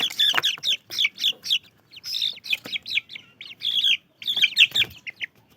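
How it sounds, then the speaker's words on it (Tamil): Poultry chicks chirping and cheeping continuously in dense bursts, with some clucking from adult fowl, close and fairly loud, heard during delivery to a customer in transport. "இதுதான் வந்து பார்த்திங்கன்னா இன்றைக்கி நம்ம அண்ணனுக்கு டெலிவரி கொடுக்குறான சிக்ஸுங்க"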